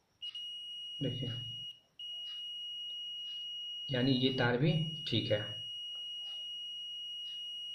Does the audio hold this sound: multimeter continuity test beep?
yes